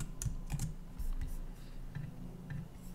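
Quiet, irregular clicks of code being typed on a computer keyboard, a few keystrokes at a time with short pauses, close and soft in an otherwise still room.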